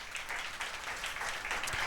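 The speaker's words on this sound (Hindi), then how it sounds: "जोरदार तालियां बजाएंगे।" Congregation applause during a church sermon, sustained crowd clapping in soft rolling waves, moderately distant and fairly quiet.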